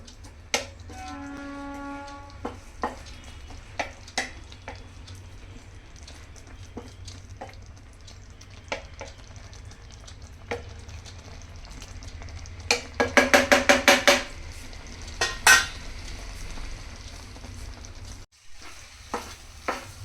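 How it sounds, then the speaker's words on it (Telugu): Oats upma being stirred slowly in a pan, soft scraping and light sizzling at low volume with scattered clinks of the spoon and a short burst of rapid scraping, no talk. "చక్కగా నిదానంగా ఇలా కలుపుతూ ఉంటే అది చక్కగా మగ్గుతూ ఉంటుంది."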